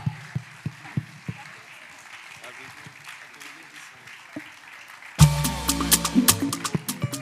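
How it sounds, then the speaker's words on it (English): At a regional convention of the Nigerian Medical Students' Association, an audience claps in a thin patter of scattered claps under faint talk, before a louder, busier burst of sound takes over near the end. "Please keep on clapping for him until he reaches the stage."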